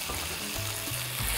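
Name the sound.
lamb with quince and currants frying in a pan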